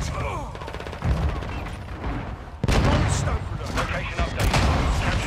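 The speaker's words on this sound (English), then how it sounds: "Hostile mortar strike incoming." Mortar strike explosions rumble and crack in a Call of Duty match on the Shipment map. Heavy booms and bursts of gunfire come thick and loud, with a large blast partway through and chatter over the top.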